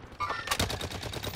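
Gunfire in Call of Duty: Modern Warfare, a rapid burst of sharp, repeated shots in quick rhythm at moderate loudness, with a few brief metallic clicks just before.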